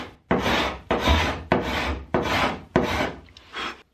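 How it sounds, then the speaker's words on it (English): Planing and scraping wood on a boat's upper rubbing strake to remove a repair double, with about six steady, close rasping strokes in a regular rhythm and no talking. "The double at the repair spot was planed and scraped to remove it."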